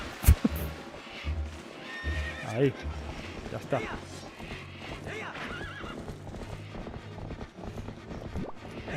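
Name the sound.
horse neighing in a video game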